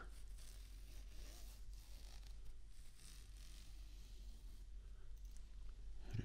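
Zipper on a warm hoodie with faux fur lining being pulled, quiet close-up rasping and scraping zips that run in repeated strokes, with rustling fabric and no talk.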